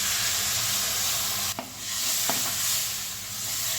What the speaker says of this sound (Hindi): जो लौकी का जूस बचा था हमारा, इसको भी इसी में हम मसाले के साथ डाल देते हैं